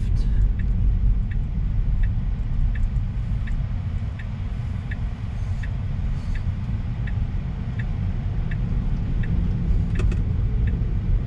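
Steady road and tyre rumble from a Tesla electric car cruising on a Colorado highway toward Kansas, continuous and fairly loud inside the cabin, with faint periodic ticking like a turn signal.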